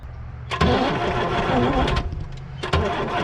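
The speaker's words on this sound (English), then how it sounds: "Let's crank it over a little bit and see if we get any" A 1975 Chevy squarebody stepside with a 6BB1 diesel engine cranks over, a loud steady rhythmic churn of the starter beginning with a clunk and continuing for about three seconds, with a second knock near the end.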